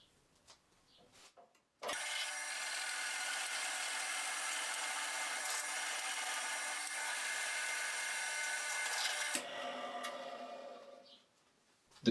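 A drill press motor starts with a click and runs at a steady loud whine for several seconds while drilling a wood block held in a vise, then winds down and stops.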